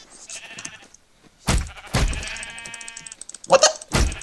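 Several sheep bleat in a video game, with wavering calls in short bursts, a loud bleat near the middle and another louder pair toward the end, between brief pauses.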